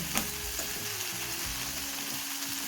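Tomatoes sauté in a pan for a green gram lentil curry, giving a quiet, steady sizzle with a few light scraping stirs, close up and with no voices.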